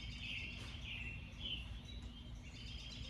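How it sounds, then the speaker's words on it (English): Bird chirping outdoors near a basketball court: a few faint, high chirps repeat at intervals over a soft, steady background hum, with no talk. "I hear a bird"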